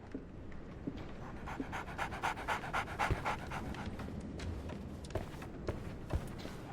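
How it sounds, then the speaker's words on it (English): A dog pants rapidly and rhythmically close by in a Sherlock Holmes video game scene, short breathy puffs repeating steadily with no talk over them. "So, Barnes has a dog now."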